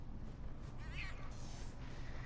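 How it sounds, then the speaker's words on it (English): A cat in Elder Scrolls Online lets out a single drawn-out meow as it is stepped on, clear over a steady game background hum. "did I just step on a cat?"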